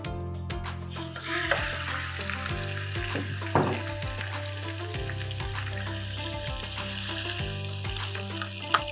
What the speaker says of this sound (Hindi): थोड़ो चिकन खे फ्राई कंदासीं,